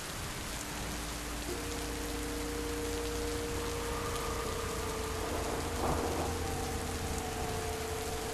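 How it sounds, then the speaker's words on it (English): A rain and thunder storm plays continuously, a steady wash of rainfall with low rumbling thunder swelling near the middle, with no voices. "Lightning crashes."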